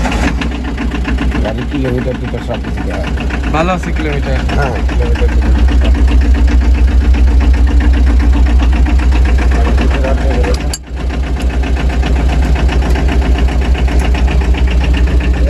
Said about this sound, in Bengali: বন্ধুরা আমরা এখন গাড়ির সাউন্ডটা শুনবো